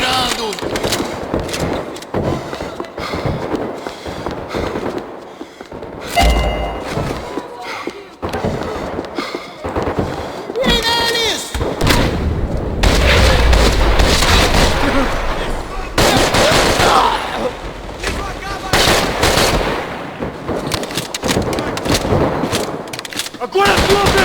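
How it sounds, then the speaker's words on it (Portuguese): Gunfire in the game Max Payne 3, irregular loud shots and heavy thuds scattered through a busy mix of game sound, with someone talking excitedly over the action. "Acho que posso continuar atirando!"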